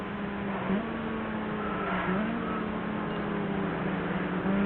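Engine of a Maserati driven in the racing video game Oahu Drift Fast & Furious, a steady close drone with pitch shifts as revs rise and fall, running continuously without talk.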